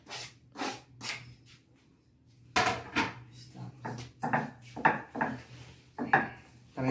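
Chopped burger meat is stirred and mixed in a bowl, giving irregular soft wet scraping and knocking strokes against the bowl, close and moderately loud, with a quiet stretch near the start.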